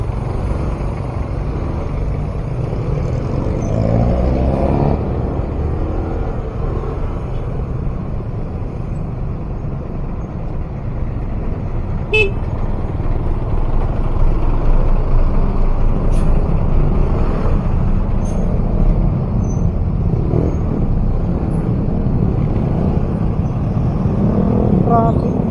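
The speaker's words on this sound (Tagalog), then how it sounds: "It's a lot of traffic here." Heavy road traffic with trucks and buses, a steady low rumble of engines and tyres close by, with a brief hiss of air brakes and occasional passing vehicles throughout.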